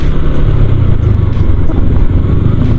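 Manual-clutch motorcycle engine running steadily and loudly up close as gears are shifted, a continuous low rumble with little change in pitch.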